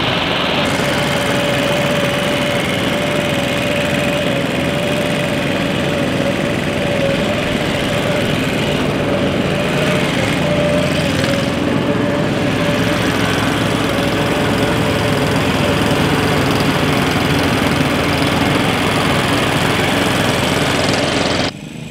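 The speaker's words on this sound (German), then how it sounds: "Ich mähe doch mit dem Spindelmäher." A reel lawn mower cutting grass on a lawn gives a steady, close, droning engine-like hum with a whirring rattle that holds evenly throughout before cutting off right at the end.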